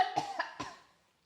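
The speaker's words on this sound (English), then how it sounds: "hold on, I got a cough." A person gives several quick close coughs in a short burst of three or four, then trails off into silence.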